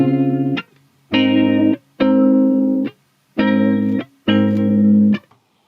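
A flanger effect applied to a recorded harmonic tone in audio editing software plays back as five separate loud bursts, each about half a second to a second long, with short silences between them.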